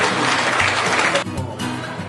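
An audience applauds to welcome the chairman and dignitaries at an EMS rally event in Roi Et, Thailand: loud, dense clapping that thins abruptly partway through and carries on more sparsely.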